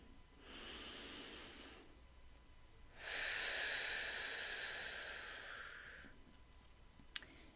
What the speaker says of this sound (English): Okay, so we're going to breathe.